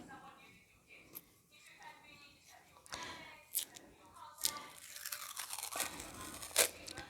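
Scissors snipping through paper and tape during a children's egg-counting craft, several short crisp cuts at close range with rustling in between, one sharper snip near the end.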